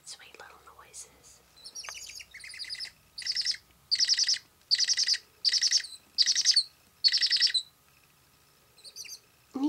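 Baby barred owls give a run of about eight raspy, hissing calls at an even, rhythmic pace, close and fairly loud, with faint chirps and a soft voice at the start and end.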